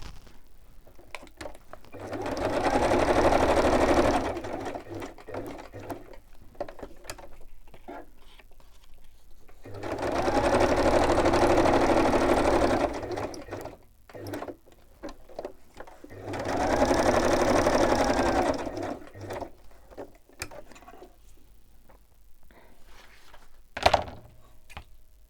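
A sewing machine stitching around a fabric piece in three steady whirring runs, each a few seconds long, with quiet handling clicks and rustles in the pauses between them.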